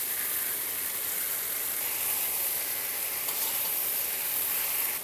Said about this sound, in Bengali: এখন এটা একটু ভালো করে ভেজে নেব আদাটা